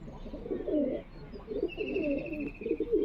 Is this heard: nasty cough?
no